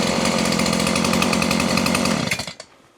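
A refuelled chainsaw runs loud and close with a steady buzzing drone, then its engine winds down and dies away over the last second.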